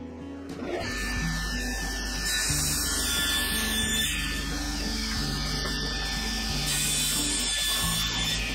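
A power saw cuts oak pieces for an end grain chopping board, a sustained whining cut that starts, dips briefly between passes and continues steadily.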